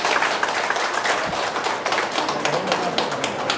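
Scattered clapping from an audience at a national conference hall, a dense patter of hand claps with soft thuds, fairly faint and without talk.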